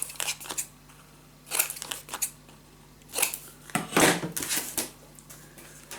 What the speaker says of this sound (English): Then we are gonna cut the corners.